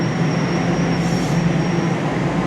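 A subway train at St. Clair station on Toronto's Line 1 gives a loud, steady rumble and rolling roar close by, with a thin high whine running through it.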